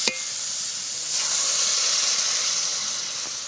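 Water poured into a hot pan of rui fish curry with potato and pointed gourd sets off a loud steady hiss and sizzle, starting with a sharp splash, swelling, then holding as a close, bright steam.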